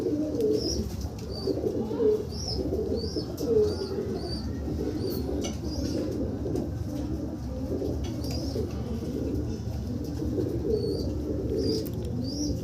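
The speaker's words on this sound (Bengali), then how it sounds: "কী সুন্দর পায়রা সংগ্রহ করেছে।" A flock of collected domestic pigeons coos steadily and densely at close range, with occasional wing flutters and no talking.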